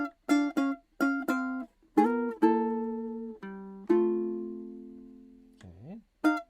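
A blues turnaround on guitar, with quick plucked notes at the start, then sustained chords ringing out and a sliding bass note near the end, played solo with no talking.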